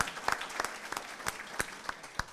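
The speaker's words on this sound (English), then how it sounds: "A big applause for our technical support manager of the learning management system" Audience at a graduation ceremony breaks into applause, a steady wash of clapping with several sharper, louder claps standing out at irregular moments.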